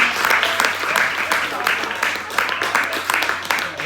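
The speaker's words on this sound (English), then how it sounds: "Big round of applause for everybody tonight." An audience at a LEGO building competition at a Bricks and Minifigs store applauds, a burst of close, lively clapping with some cheering and voices mixed in, pulsing slightly as it carries on.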